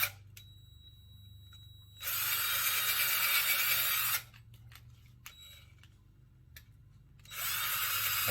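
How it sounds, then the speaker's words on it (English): Power drill boring holes into PVC pipe for a grow station, two loud sustained bursts of several seconds each with a brief quieter tap-and-whir gap between them, no talking. "drill these holes in real quick."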